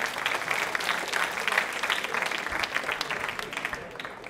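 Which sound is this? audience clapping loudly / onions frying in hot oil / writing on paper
audience clapping loudly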